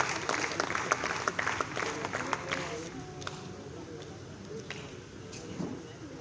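An audience at an Urdu stage drama show claps loudly, the applause crisp and busy at first with distinct hand claps, then thinning and tapering as the crowd settles.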